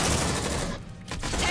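Suppressive automatic gunfire in Aliens: Dark Descent, a dense, continuous roar of shots with a brief dip in the middle, loud and close, with no voices.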